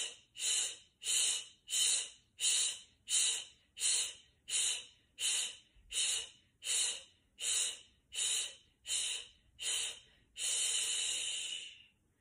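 Rapid rhythmic breath of fire exercise: a steady train of about a dozen forceful, hissing nasal exhalations at an even pace, close and clear, ending in a longer sustained breath.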